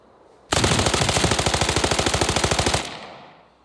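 Automatic gunfire from a new Season 5 weapon in the video game Arena Breakout, a loud rapid burst of about two seconds with evenly spaced shots and a short fading tail, no talking.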